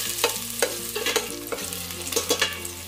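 Garlic and ginger sauté in a hot pan, a crackling sizzle broken by repeated scraping strokes of a spatula, close up with no talking.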